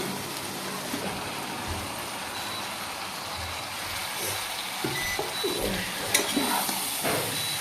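Vegetables with a little spice cook in a pan, giving a steady, close sizzle with occasional stirring scrapes and knocks that grow busier toward the end.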